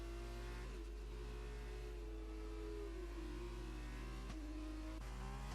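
A race car engine in the F1 2020 video game whines at a steady high pitch, dips as it passes, then shifts sharply twice. Faint, with no talk.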